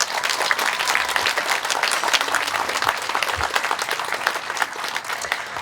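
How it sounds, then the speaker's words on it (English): An audience at a pageant's ice cream social breaks into dense, steady applause, many hands clapping continuously at a moderate distance with no voices on top. "Let's give these people a round of applause."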